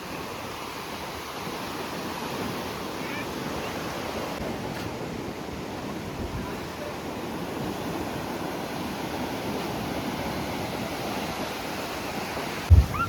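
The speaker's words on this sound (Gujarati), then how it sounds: "એકદમ જોરદાર ફ્લો છે પાણીનો" Strong, dangerous-looking river water in flow after rain, a steady, continuous rushing roar heard from nearby, with a brief knock near the end and no voices.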